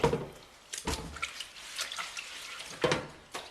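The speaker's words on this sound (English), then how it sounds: "I'm just going to use it to give this breadboard a really decent wash." A wooden breadboard is washed by hand in a kitchen sink of hot, soapy water, with faint splashes and drips and a few louder sloshes spread across a few seconds, no voices.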